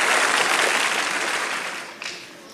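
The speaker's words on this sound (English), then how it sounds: "Let's give our judges a tremendous round of applause for their appearance here" A tremendous round of applause from an audience for a panel of dance judges, steady dense clapping that fades out after about two seconds.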